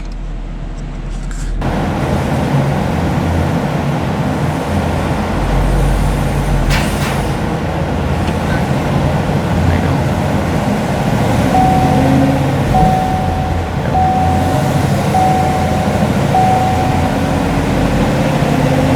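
A Chevrolet Camaro 1LE running on a dyno, producing a loud, steady engine drone that fills the room throughout with little change in level and no talking over it.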